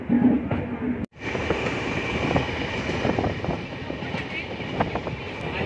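A weekly express passenger train from Mysuru to Bengaluru runs on the rails near Mandya, with a steady close rolling rumble and wheel clatter, broken by one brief dip in sound early on.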